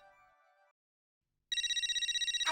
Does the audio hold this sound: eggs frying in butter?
no